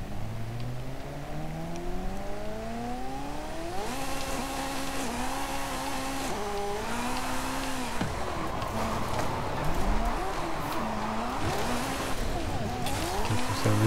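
A Ferrari F40 Competizione in Forza Horizon 5, with a maxed-out stock engine, drifts with a loud rising and falling engine note, gear shifts and sustained tire squeal, continuous throughout with a voice speaking over it.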